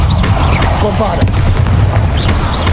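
A Bombarda blast spell goes off in Hogwarts Legacy, a dense booming burst that fills the clip with low rumble and crackle, with a voice casting over it.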